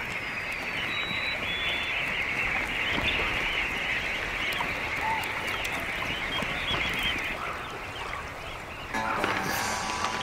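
Flocks of migrating geese and other waterfowl call on a river delta in Alaska in spring, a dense continuous chorus of honks and cackles at moderate distance, steady throughout with a rougher burst near the end.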